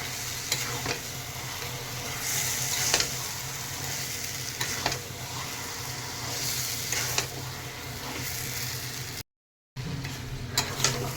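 Taro leaves with slit green chillies being stirred and fried in a pan, a continuous close sizzle broken by repeated scraping strokes of the spatula, with a brief silent gap near the end and no talk.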